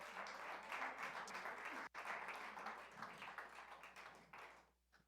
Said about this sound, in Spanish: ¿Usted le da un aplauso al Señor en este día?